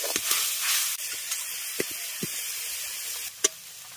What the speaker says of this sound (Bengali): এবার এর মধ্যে অল্প পরিমাণে জল দিয়ে দিচ্ছি। জলটা দিয়ে এটাকে খুব ভালোভাবে ফুটতে দেবো।